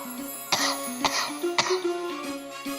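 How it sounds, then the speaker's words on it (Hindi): A man's coughing fit on a comedy set: several sharp, rough coughs at roughly half-second intervals over a steady musical drone, moderately close and loud. "हमको खांसी बा"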